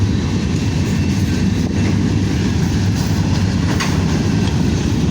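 A long freight train hauled by multiple locomotives with distributed power units rumbles past nearby, a steady, loud roar of wheels and wagons with no break across the whole stretch.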